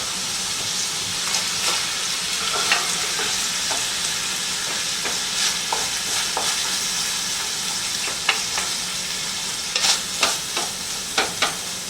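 Cabbage fries in a hot pan for a moo shu pork bowl, with a continuous close sizzle and a spatula stirring in repeated scraping clicks throughout.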